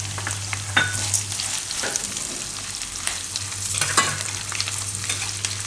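Ginger, chili, garlic and split roasted chana dal roast in hot oil with a close, steady sizzle, punctuated by a few sharp scrapes of stirring and a low hum beneath.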